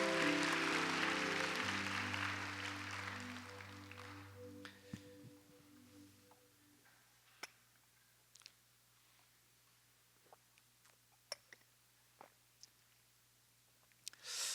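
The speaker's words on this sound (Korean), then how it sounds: "우리 다시 한번 격려의 박수 드리도록 하겠습니다." A burst of applause from a church congregation during a worship service that fades out over several seconds, followed by quiet room noise with scattered clicks and taps.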